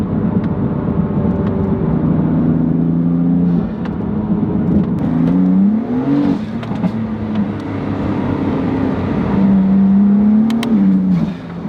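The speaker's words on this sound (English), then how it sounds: "the intake noises are nice and loud" A BMW S55 engine with an aftermarket intake roars loudly under acceleration, with a strong intake drone rising in pitch, dipping briefly, then climbing again.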